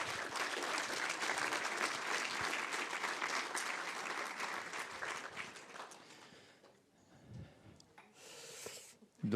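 A conference audience claps warmly for an introduced clinical research nurse, dense sustained applause that thins and fades out toward the end, with a brief murmur of voices.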